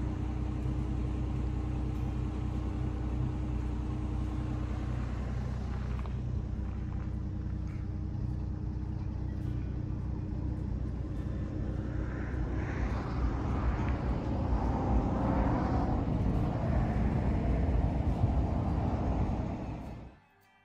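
A car travels the road from Safford toward Clifton and Morenci, Arizona, giving a continuous low rumble of engine and road noise that holds steady, shifts in texture partway through and then cuts off abruptly.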